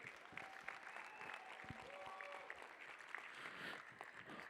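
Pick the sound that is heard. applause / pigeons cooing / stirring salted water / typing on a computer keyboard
applause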